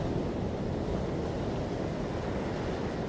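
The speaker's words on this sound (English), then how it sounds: "bring your intention, your focus, your awareness on water, on these sounds" Ocean waves wash in a continuous, broad rushing surf, steady and moderately loud with no voices, like water rolling onto a shore.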